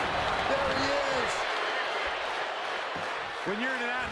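Crowd roar filling a WWE 2K23 video game wrestling arena during a Rock versus Finn Balor match, a steady loud wash of noise with scattered cheers and whistles throughout.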